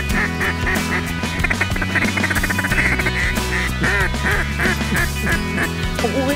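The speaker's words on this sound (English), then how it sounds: "we'll get those migratory geese." Loud, dense flock of migratory geese honking and quacking continuously during a waterfowl hunt, many birds calling at once over a steady low rumble.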